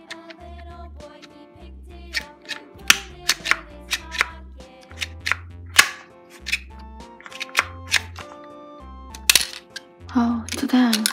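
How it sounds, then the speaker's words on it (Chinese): Octonauts Gup toy boat launching small plastic projectiles, a series of sharp snapping clicks and clacks at close range, spaced irregularly over a dull rhythmic background thump, with a voice speaking in between. "对准了巴克队长发射"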